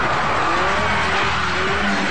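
A race car skids with squealing tyres on a blocked-off Wellington, New Zealand street during a car club's timed runs, a loud sustained screech with engine noise underneath.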